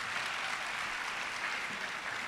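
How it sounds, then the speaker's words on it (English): Applause from an audience at the opening of ECC's annual Professional Development Institute, a dense, even wash of clapping, fairly faint and steady throughout. "A round of applause, ladies and gentlemen."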